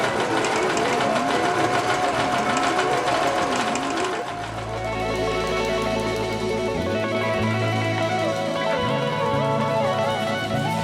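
A sewing machine stitches a dark fabric bodysuit, running in a steady, close mechanical whir. Partway through, the motor note drops lower and continues with a droning hum and rhythmic clatter.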